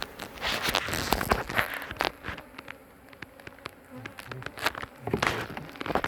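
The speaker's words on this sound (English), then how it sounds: "This hive is the feisty hive because it's got lots and lots of pollen, and nectar sources." Honeybees buzz around a busy hive rich in pollen and nectar, many close passes swelling and fading, with scattered bumps and handling noises near the box.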